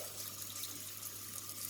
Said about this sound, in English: Just fill it with water.